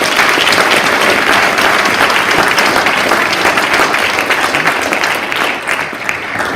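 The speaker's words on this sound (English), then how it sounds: "Let's give them an applause." An audience at an athletics hall of fame ceremony applauds the games executive board with loud, dense, sustained clapping that fades slightly toward the end.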